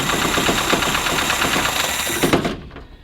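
An old car engine on a project 2002, started for the first time in 30 years, revved hard: a loud, rough, continuous roar with knocking pulses that suddenly drops away near the end.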